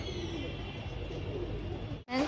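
Pigeons kept for sale at a house in Krishnanagar, Nadia, coo softly and low against a steady background hum, faint and close, ending in a brief rustle.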